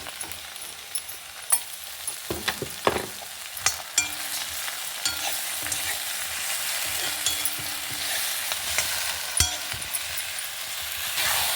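Okra cooks with ground masala and turmeric in a pan, a steady sizzle of stir-frying broken by sharp scrapes and clinks of the spatula against the metal, close and alone without speech.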